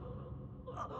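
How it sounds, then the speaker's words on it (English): A short, breathy gasp from an injured character in the anime Solo Leveling rises near the end over a low, steady background rumble, close and fairly quiet. "He's just gasping."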